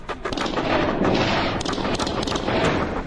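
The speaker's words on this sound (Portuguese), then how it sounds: "Tiros." Dense, chaotic burst of gunfire during an attack at a crowded pyramid tourist site in Mexico, with rapid overlapping shots and crowd noise, loud and continuous throughout.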